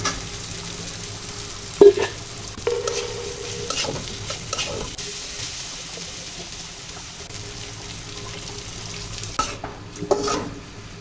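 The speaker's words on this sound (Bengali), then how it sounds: "মাছগুলো দিয়ে দেবো যেগুলো মাছগুলো ভেজে রেখেছিলাম" Fried taki fish stirred into a pan with mustard greens, giving a steady low sizzle with occasional scraping clinks of the spoon, nearby and moderately loud, with no talking.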